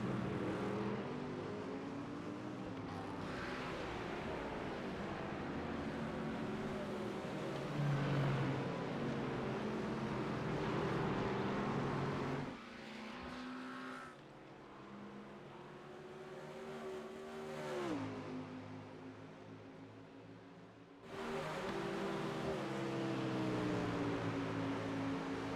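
Race cars lapping Daytona in a sim racing game qualifying session, including a Mustang, with engines droning and shifting pitch continuously, loud and steady with brief dips as cars pass and gear changes.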